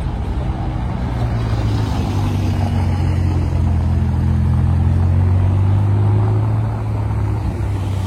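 A Ferrari at a Ferrari gathering drives by, its deep engine rumble steady and close, the low drone rising and falling slightly in pitch as it passes, with no voices over it.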